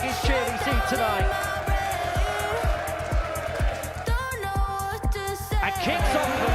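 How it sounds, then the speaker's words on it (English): A large crowd at a darts match cheers loudly and steadily, while a commentator talks over the noise and music pulses beneath it. "that might well be the biggest cheer we see tonight."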